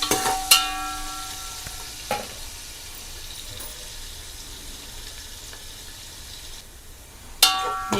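Onions fry with a pinch of turmeric in a pan for Telugu fish curry, a constant loud sizzle with sharp spatula clanks near the start, around two seconds and at the end.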